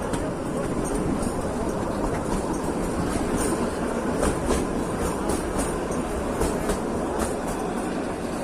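The Kalka–Shimla toy train climbs uphill toward Shimla, a steady rumble of rolling wheels with repeated rhythmic clicks and faint squeals, heard from on board and continuous throughout.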